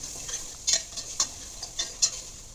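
Onions stirred with chicken stock powder in a pot for Arabian kabsa, a few soft scraping strokes and light clinks of the spoon over a faint sizzle, close by with no speech.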